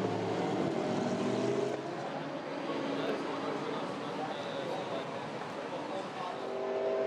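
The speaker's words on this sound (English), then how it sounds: "And there is the Kitasawa's McLaren, followed by Mika Hakkinen in the Mercedes" GT race cars, a McLaren and a Mercedes-AMG, battle on track at Zhuhai in China during a GT Asia Series round, their steady engine roar continuous and moderately distant beneath broadcast commentary.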